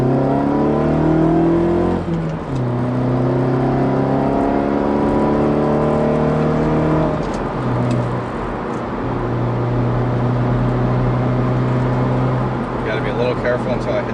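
2015 Mazda3 on twisty roads, engine note rising and falling as it revs through gear changes, heard from inside the cabin with a person talking over it.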